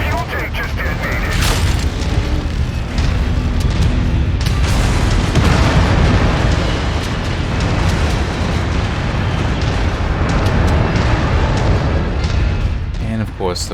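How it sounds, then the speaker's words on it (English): A fuel tank blows up in MechWarrior 5: Mercenaries, a loud, sustained blast of booming, crackling destruction that rolls on for several seconds amid continuous battle noise, with a voice speaking over it. "The fuel tank just detonated!"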